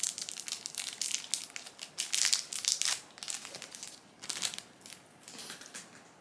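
Plastic packaging bag around a foundation brush being handled and crinkled up close, with irregular bursts of crackling and rustling that come and go, strongest in the middle and fading toward the end; no talking.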